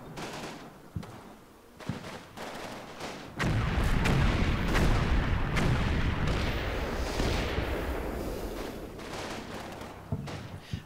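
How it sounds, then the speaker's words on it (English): Video game artillery and gunfire rounds slamming into a building during a training campaign, a sustained rumbling barrage of booms and bursts with sharp individual shots at the start and end, moderately loud and without speech. "Now we got rounds going in on that building."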